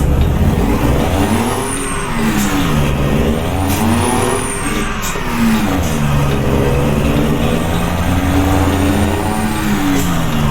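A Cummins N14 diesel truck engine in a driving video game revs up and down in long sweeping waves, its deep droning tone rising and falling steadily and loudly throughout, with no voices.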